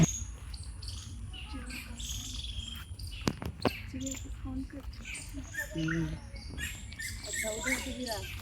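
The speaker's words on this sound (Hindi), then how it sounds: "इतना अच्छा आवाज़ है यहाँ पे चिड़िया की, जो आपको कहीं भी सुनने को नहीं मिलेगा गांव के अलावा" Birds chirp and sing in a forest near a village in Ghaziabad, with scattered tweets over a constant insect buzz and a few sharper calls in the middle.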